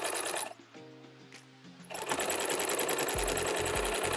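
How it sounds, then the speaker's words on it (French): A sewing machine stitches a Minky blanket with a rapid, loud mechanical whir. The whir stops briefly for a quieter pause with faint tones, then resumes steadily with low thumps near the end. "Je continue ma couture normalement."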